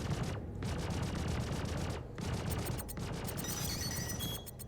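Rapid continuous gunfire from spaceship weapons in the Star Citizen space combat game, near and loud, with dense automatic bursts and a few brief pauses and no talk.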